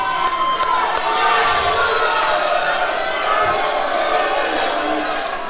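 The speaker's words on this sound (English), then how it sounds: "Capacity crowd here at the UC Refectory, 750 fans plus packed in." A capacity crowd of around 750 wrestling fans packed into the UC Refectory roars and cheers continuously, loud and close, with shouts and sharp bangs rising out of the din.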